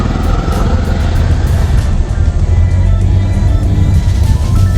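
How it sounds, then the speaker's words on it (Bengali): A car cruising along an empty road on a trip to Digha, with steady engine and tyre rumble holding loud and constant throughout, no voices. "ড্রাইভ করছে, এখন রাস্তা একদম ফাঁকা।"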